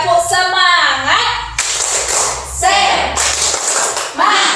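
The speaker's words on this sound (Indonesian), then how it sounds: "Oke, tepuk semangat." A classroom of students doing a rhythmic spirit clap, sharp bursts of clapping alternating with chanted voices and a teacher speaking between them.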